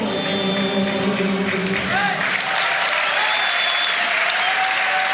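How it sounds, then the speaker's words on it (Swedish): Loud, sustained applause from a packed arena crowd at an MMA event in Lisebergshallen as a fighter walks in, dense clapping with some cheering and whistles throughout. "Fernando Vieira tar emot publikens jubel i Lisebergshallen"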